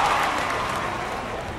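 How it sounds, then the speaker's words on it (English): Steady stadium crowd applause in a baseball video game, a broad wash of clapping and cheering, fairly loud and sustained, slowly tapering off. "Yankee fans applaud that defensive effort by the left fielder"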